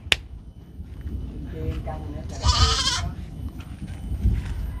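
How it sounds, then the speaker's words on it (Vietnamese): Mini goats, very small in size, bleat on a farm beside a newly built shed, a loud wavering cry rising midway with livestock noise and shuffling around it. "Dê này dê mini nha các bạn, size rất là nhỏ."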